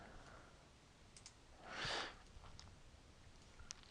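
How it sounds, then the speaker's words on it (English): A computer mouse gives a few faint, sparse left clicks in a quiet room, with a soft breathy rush midway and a sharper click near the end. "one left click of the mouse highlights them"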